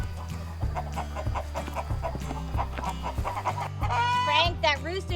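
Free-range hens and a rooster cluck and squawk close by on a farm where they scratch through a cow patty, with voices and a steady rhythmic backing underneath.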